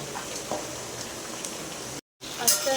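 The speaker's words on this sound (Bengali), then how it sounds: "ফ্রাই করা মাংসটা আস্তে আস্তে ঢেলে ফেলছি" Fried chicken pieces tumble into a hot wok of sauce for chilli chicken, a steady sizzle with soft scattered clatters, a brief dropout, then a louder hiss as more pieces land.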